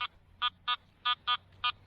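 On a beach with frozen ground, a metal detector gives six short, evenly pitched electronic beeps in an uneven rhythm over a faint low hum.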